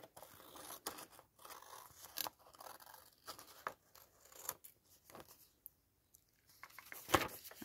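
Scissors snipping through paper or card while trimming a craft flip pocket, quiet close cuts and rustles in irregular bursts, with a sharper snip near the end.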